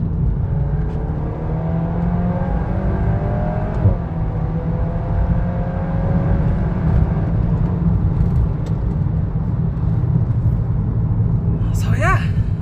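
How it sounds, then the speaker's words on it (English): Steady low exhaust rumble from a 2023 VW Golf R (Mk8) with DSG, pulling in a low gear, droning continuously with a slight rise in pitch, fairly loud and close throughout. "all I'm hearing is the exhaust at the back."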